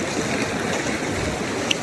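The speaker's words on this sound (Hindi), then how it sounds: "ये है बिस्पा रिवर।" The Baspa river flowing near Chitkul: a steady, close rushing of cold mountain water with no pauses, filling the whole moment.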